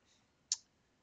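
A single crisp key click from a computer keyboard during Fusion 360 design work, one short sharp tap in an otherwise quiet room.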